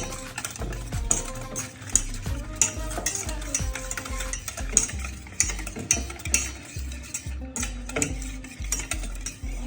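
Semolina batter for sandwich dhokla being mixed in a bowl, continuous rhythmic spoon scraping and clinking against the vessel, close and fairly loud, with no one speaking.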